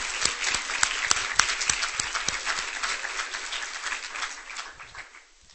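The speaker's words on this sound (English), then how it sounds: "I want to make sure we give her a round of applause for her contributions." Audience applauding an HIV advocate at an event assessing the HIV epidemic, a full round of clapping from a crowd that fades gradually toward the end.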